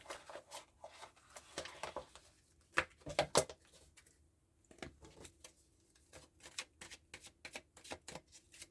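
Lenormand oracle cards are shuffled close up in quick bursts of crisp riffling and tapping, with a brief pause midway before the shuffling picks up again.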